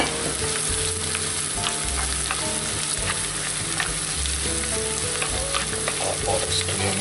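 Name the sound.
sliced pork neck frying with onions in oil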